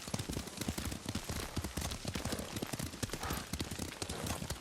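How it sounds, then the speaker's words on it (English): Horse hooves clip-clop in a steady rhythmic gait while riding in the video game Ghost of Tsushima, close and continuous, with a rainy wash behind the footfalls. "Lord Sakai taught me to ride a horse."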